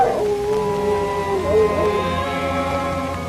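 A dog howls in a long, wavering, drawn-out cry that rises and falls, fairly loud and steady against a quiet background in a haunted-house setting.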